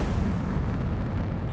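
A missile explosion in the combat flight game Ace Combat 7 gives a sustained, loud rumbling roar that fills the whole stretch without a break, heavy in the low end, with no talk over it.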